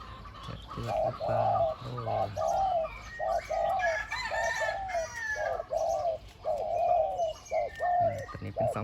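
A trained young bird in mid-pitched song, repeating a series of cooing, crowing-like phrases with short gaps between them, fairly close and moderately loud.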